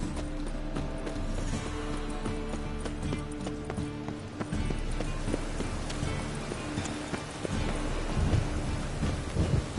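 Steady rain falls and thunder rumbles in The Witcher 3 video game, while horse hooves clip-clop throughout. The storm is loud and continuous, with no music or talking.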